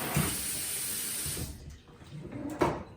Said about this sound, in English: you can just take your little sink sprayer like this